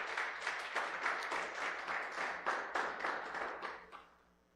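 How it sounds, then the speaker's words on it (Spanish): A church congregation claps together in praise, a dense, even burst of applause lasting several seconds before tapering off, heard from a moderate distance without speech over it. "Dele un aplauso al Señor"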